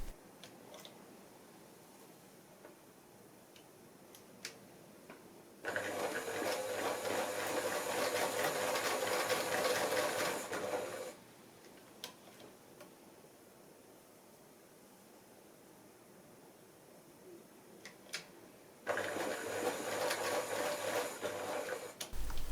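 A domestic sewing machine runs in two steady bursts, the first about five seconds long and the second shorter near the end, with quieter room tone between them and no talk.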